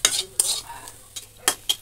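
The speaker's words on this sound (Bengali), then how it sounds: "আমাদের পেঁয়াজ মরিচ ভাজাটা হয়ে গেছে" Onions and chilies fry in a pan with a soft sizzle, broken by a few quick, sharp stirring scrapes and clinks spaced irregularly over a couple of seconds.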